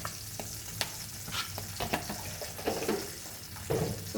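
Curry leaves dropped into hot coconut oil for a Goan cashew curry, a soft spitting sizzle with scattered pops and spoon scrapes, fairly quiet and close, no voices.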